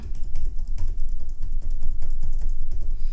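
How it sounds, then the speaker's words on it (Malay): Rapid, steady tapping of laptop keys, close by, with uneven clicks running continuously and no voices. "saya cuba tekan keyboard kat sini nak dengar"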